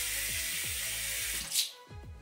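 Water runs into a Gemice leak-proof travel bottle as a steady, close hiss of pouring that lasts a couple of seconds, with a brief louder surge near the end.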